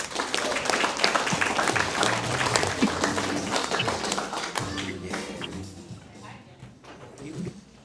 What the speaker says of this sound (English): You've clapped a lot.